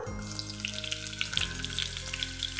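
Onions frying in oil in a pan for a shrimp and scallop saffron pasta, a steady close crackling sizzle with dense popping spatter throughout, no voices.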